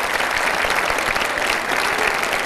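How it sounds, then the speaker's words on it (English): Dense, steady applause from a concert audience cheering a group of musicians, a continuous wash of many hands clapping with no pause and no talk. "I want a big round of applause for this fantastic group of musicians."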